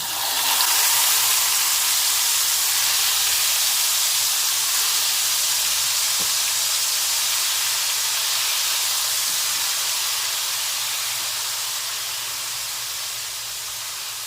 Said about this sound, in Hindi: 1 टीस्पून कुटी मिर्च और 1 टीस्पून ज़ीरा डाल के फिर इसको मैं उसमें डाल दूँ कड़ी में